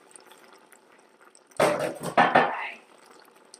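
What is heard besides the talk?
hot tap water poured into soup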